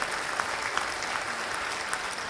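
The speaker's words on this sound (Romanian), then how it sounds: "Și să-l aplaudăm, pentru că în administrație Cristi Lazar este suflu proaspăt" Applause for Cristi Lazar at a Romanian Liberal party gathering: dense, steady clapping from a large audience, loud and continuous throughout, with no talking over it.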